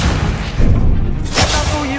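A burst of fire from the Incendio spell being cast in Hogwarts Legacy, a dense, rumbling whoosh with a loud swell about halfway through, then a crackling tail.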